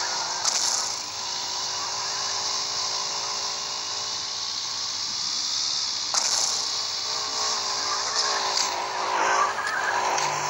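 A car in the video game Hopeless Land driving with a steady engine drone and long tire-squealing skids, loud and close, with brief louder bursts.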